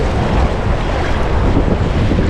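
Waves and water current wash around a small boat at sea, a loud, constant churning rush with heavy wind buffeting close to the microphone and no talking.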